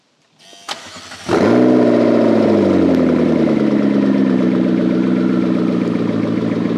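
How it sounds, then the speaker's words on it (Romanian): A McLaren sports car engine cranks and catches after a brief click, then settles into a loud, steady, throaty idle that continues evenly. "Motorul e deja cald, îl mai lăsăm un pic"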